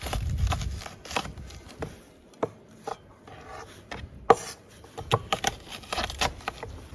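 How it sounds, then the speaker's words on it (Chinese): A kitchen knife crushes water chestnuts on a wooden cutting board, producing scattered sharp cracks and thuds mixed with rubbing and scraping, irregular and close, with quiet gaps between the hits. "现在我们来切点马蹄，首先用刀给它压碎。"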